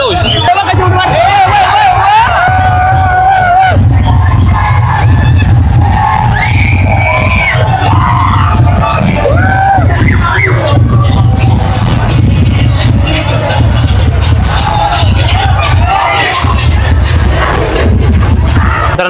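A dense festival crowd fills a Nashik street during the Rangpanchami celebration, with loud continuous babble, yells and whoops, and a heavy low rumble underneath. Voices talk close by throughout.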